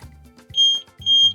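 A Tesla's alarm chirps after its battery is reconnected, two loud high electronic beeps about half a second apart, each preceded by a low thump.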